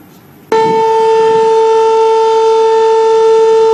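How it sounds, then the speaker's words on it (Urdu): A loud steady siren starts abruptly and holds one sustained tone, sounded at 8:52 for a memorial silence marking the Azad Kashmir earthquake anniversary. "8:52 پر سائرن بجا کر خاموشی اختیار کی گئی"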